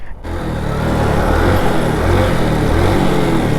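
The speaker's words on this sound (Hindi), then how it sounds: "ये देखो बाइक, ये देखो चौथा गियर है, मैं रेस नहीं भी दूंगा, देखो मेरी बाइक बंद नहीं हुई।" Motorcycle engine running in fourth gear at low throttle without stalling, a loud, steady, close-up rumble that settles into an even, continuous drone after a brief quiet start.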